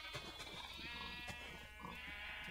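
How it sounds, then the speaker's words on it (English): Repeated sheep bleats from Minecraft, several overlapping calls in quick succession over a steady game-music background, fairly close and continuous across the short stretch. "those sheep can get a little bit annoying in my ears"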